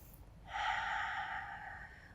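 During a lower-back stretching exercise, a single long, deep exhale of breath flows out close and soft, fading gradually over about a second and a half.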